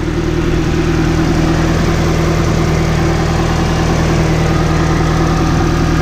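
A car engine, running with no radiator fan and no coolant, idles loudly and evenly up close, a constant steady drone with a low hum and no pauses or voices.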